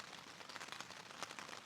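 Steady rain falls on a Pacific Crest Trail thru-hike, a soft even hiss with faint patters and no voices, quiet and constant throughout.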